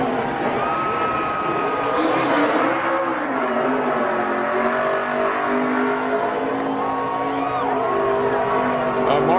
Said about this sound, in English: These burnouts, they still doing them